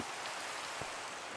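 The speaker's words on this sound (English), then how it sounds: "rain is loud" Steady rain pours in the Minecraft video game, a dense, even hiss of falling water with occasional faint drops, heard alone without talk.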